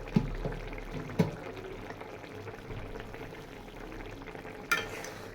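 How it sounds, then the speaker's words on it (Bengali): Small local fish cooked with onions being stirred in a pan, with a few sharp scraping knocks of the spoon over a low, steady sizzle of frying. "ঢাকনাটা খুলে এখন একটু নেড়ে দিব।"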